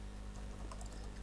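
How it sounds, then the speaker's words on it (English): A few soft keystrokes tap on a computer keyboard as a name is typed, faint and close, under a steady low electrical hum with no talking. "this time let's type a different name"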